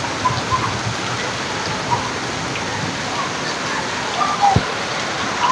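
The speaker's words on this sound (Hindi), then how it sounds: "इस वक्त जो बारिश हो रही है वो बहुत शदीद तूफ़ानी बारिश हो रही है" Heavy stormy rain pours as a dense, steady hiss on surfaces all around, loud and close, with a brief splash or knock near the end.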